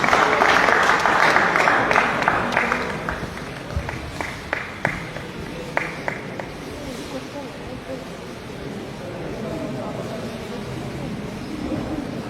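An audience at a college Christmas celebration in a hall breaks into loud applause that fades within a few seconds into scattered, separate claps, with people talking beneath it.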